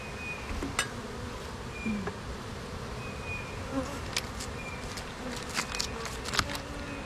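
Honey bees buzz steadily at an open hive during an inspection, a low continuous drone with occasional louder bees passing close and small tapping sounds in between.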